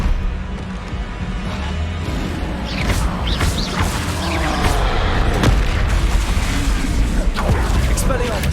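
Repeated Confringo explosive spells go off in a Harry Potter video game, a series of heavy booms and crashing blasts with mechanical clatter, loud and close, as a voice calls out spell names between them.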